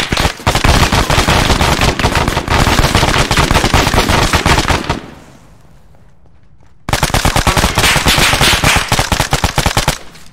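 Sustained machine gun fire in the Arma 3 video game on the Malden map, loud, dense rapid bursts that pause for about two seconds, then resume at full intensity.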